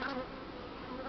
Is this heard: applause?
no